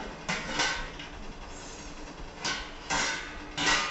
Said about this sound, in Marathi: झाकण काढून तुम्हाला दाखवते.